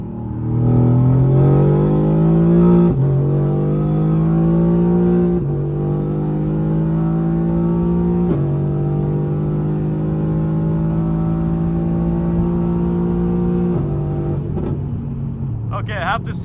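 A Mercedes-AMG GT R with an aftermarket exhaust accelerates hard through the gears, engine climbing in pitch, dropping at each shift and climbing again, loud and close from inside the car, finishing with a few sharp downshift crackles.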